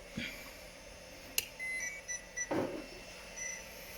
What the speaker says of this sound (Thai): หลังจากเปิดรถนะครับ เราจะได้ยินเสียงสัญญาณ ติดติดติดติดติดติดอะไรก็แล้วแต่นะครับ